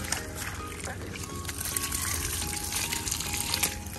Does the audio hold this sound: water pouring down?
yes